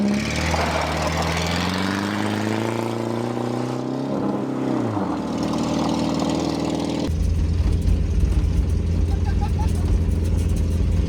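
A long-neglected 1979 MG with a smoking engine, running while being driven: the engine revs climb and fall, then settle into a loud, rough rumble, with people talking over it.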